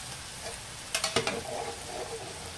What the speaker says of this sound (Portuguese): Vamos mexer aqui um pouquinho, ó. Só para descolar o fundo aqui da nossa panela.